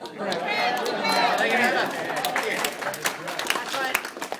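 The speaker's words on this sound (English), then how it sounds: "always nice when a few people clap." Scattered audience clapping at a live comedy show, a few hands applauding unevenly with crowd murmur and chatter mixed in, fairly close and moderately loud.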